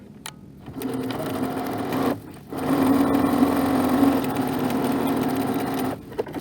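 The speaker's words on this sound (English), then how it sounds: "I'm going to sew this at 1/2 inch" A sewing machine runs steadily along a half-inch apron pocket side seam, starting briefly, pausing, then stitching continuously in a close, loud, even drone before stopping near the end.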